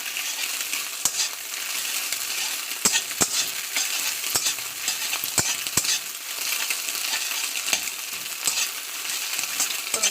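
A mashed potato and lentil bhorta is stirred in a pan on a gas stove, with a steady sizzle and scattered sharp scraping clicks from the spoon and no voices.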